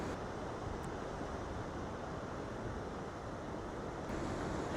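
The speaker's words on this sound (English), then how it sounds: "we have big waves down here in Cala San Vicente" Big waves break steadily on the shoreline at Cala San Vicente, Mallorca, a dense, continuous roar of surf with wind buffeting the microphone and no voices.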